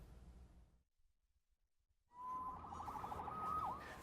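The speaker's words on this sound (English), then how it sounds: "Saved by the siren." A siren wails in after a quiet gap, a steady rising and falling tone that grows loud and close, with a sharp pitch dip near the end over a rumbling background.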